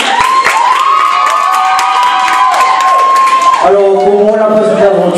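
Audience at a Miss Prestige Réunion pageant show cheers and shouts loudly for a contestant, a dense crowd roar with a sustained tonal voice or music line over it, continuing steadily throughout.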